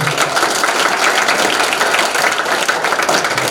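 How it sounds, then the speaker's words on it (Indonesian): Audience applause for a priest after his first presentation at a seminarians' recollection, a steady, dense patter of clapping hands filling the room for the whole stretch with no voices. "Kita berikan tepuk tangan untuk Romo."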